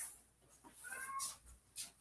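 A house cat gives a soft, fairly faint meow, a brief tonal cry amid quiet room noise and scattered light clicks, no speech.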